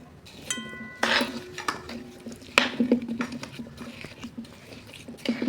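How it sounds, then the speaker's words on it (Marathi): Jaggery being stirred into urad dal flour in a metal pot for gond laddu, with scattered scraping, soft squishing and clinks of a spoon against the pot, some louder knocks, no talking. "आता आपण त्यात गुळ घालून मिक्स करूया"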